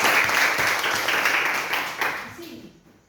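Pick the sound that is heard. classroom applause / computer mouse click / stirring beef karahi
classroom applause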